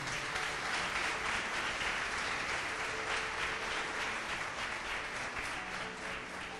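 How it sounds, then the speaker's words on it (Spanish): A church congregation gives sustained applause to the Lord during a Spanish-language service: steady, crowded clapping from many people that fills the room evenly for the whole stretch, with no talking over it. "Levante un aplauso al Señor por eso."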